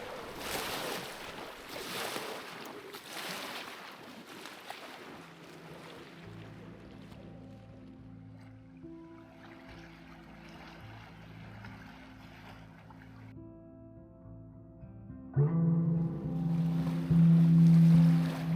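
Wind buffets and waves lap around a canoe out on Lake Temagami on a fall solo trip, gusty rushing at first, then calmer stretches with low humming tones and a louder swell toward the end.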